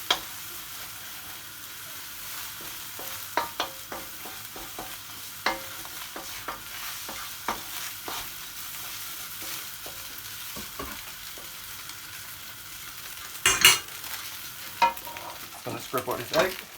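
Egg frying in oil in a pot for chicken fried rice, a low steady sizzle under scattered scraping strokes of a spatula that grow louder and busier toward the end.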